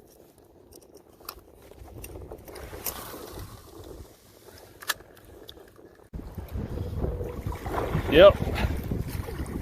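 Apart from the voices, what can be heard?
wind blowing on a fishing boat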